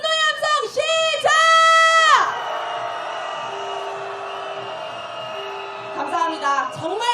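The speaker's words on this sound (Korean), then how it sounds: "윤석열 탄핵에 대한 분노의 함성 시작!" Protesters at a candlelight march calling for President Yoon Suk-yeol's impeachment raise loud, angry shouts together, then the roar settles into a sustained, droning crowd din before voices swell again near the end.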